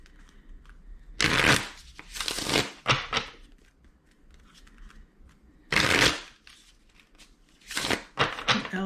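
Tarot cards shuffled in several short bursts of close, crisp riffling and flicking, separated by quiet pauses.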